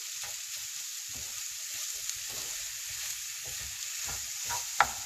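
Beef patty filling cooking in a pan, a faint steady sizzle under occasional soft stirring scrapes and one sharp tap near the end.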